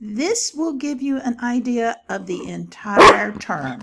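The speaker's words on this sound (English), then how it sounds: "That's my dog barking." A pet dog barking in the background at home, several sharp barks mixed in while a person speaks over them, with one louder bark near the end.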